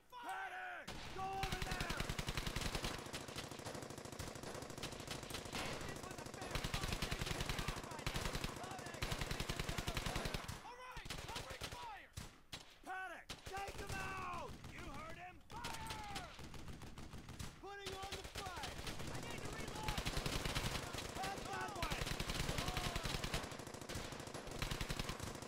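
Sustained machine gun suppressing fire in the World War II shooter Brothers in Arms: Hell's Highway, long loud bursts and overlapping gunshots with short lulls, soldiers' voices shouting over the clatter.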